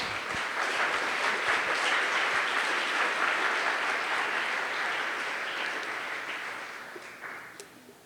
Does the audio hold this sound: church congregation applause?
yes